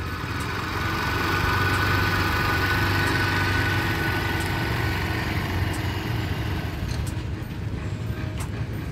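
Scooter engine held at a steady throttle during a riding lesson, a continuous low hum that stays loud and even for the whole stretch with no talk over it.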